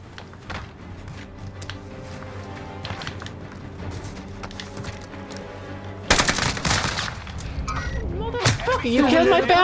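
Gunfire in a Warzone match with a Welgun and a shotgun: scattered sharp shots over background noise and talk, then a loud burst of shots and a heavy final blast as an excited voice rises.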